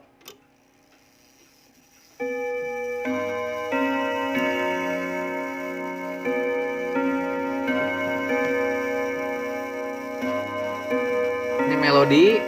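An 87-year-old Junghans W64 pendulum clock chimes a slow melody of ringing bell-like tones after a quiet ticking start, each note sustaining and overlapping, growing louder toward the end.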